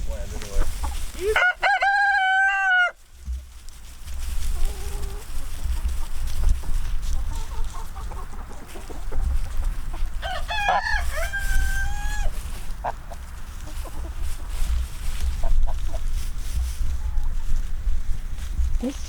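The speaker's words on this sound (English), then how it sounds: "This chicken has been in here for a long time." A rooster crows twice in a pasture with a chicken flock, loud drawn-out calls with scattered clucks between them over a low rumbling background.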